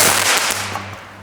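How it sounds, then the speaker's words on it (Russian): A Spanish firecracker bursts inside an unbreakable glass with one sharp, loud crack that opens the clip, then fades quickly into a short hissing decay. "Вот это фейерверк был."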